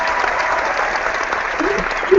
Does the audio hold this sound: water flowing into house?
no